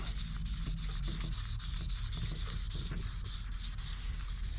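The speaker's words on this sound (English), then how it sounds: "I think it just needs a good even sand" Sandpaper rubs over 330 stainless steel trim in a continuous, even abrasive scrubbing with a faint back-and-forth rhythm. It sounds close and steady, with no talking.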